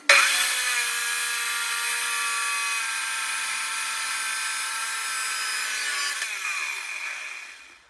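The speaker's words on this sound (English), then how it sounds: "I just set up the chop saw and cut that little corner off" A chop saw cuts a small corner off a piece of metal for a Cat 922B loader attachment, giving a loud, steady, high screeching whine that runs for about six seconds before the blade spins down and fades.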